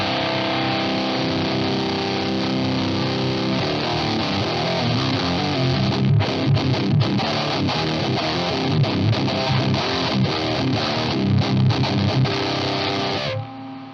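Electric guitar played through a Horse Extreme Metal distortion pedal, heavily driven and fuzzy with a constant hiss: a sustained chord rings first, then fast palm-muted chugging riffs, loud and close, ending abruptly.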